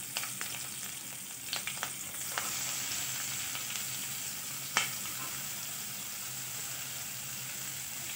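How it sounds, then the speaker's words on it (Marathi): Onion sautéing in a pan for sevai upma, a soft continuous sizzle and fry with a few scattered stirring clicks, fairly quiet and steady throughout. "कांदा पण छान परतून घेऊया।"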